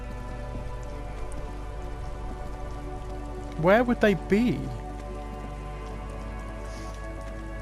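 Steady rain falls at night in the video game Disco Elysium, a constant hiss under a low hum and drawn-out musical tones, with someone speaking briefly over it partway through.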